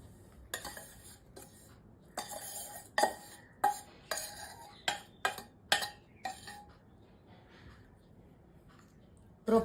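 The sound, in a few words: mixing crushed edible gum ladoo with roasted flour and coconut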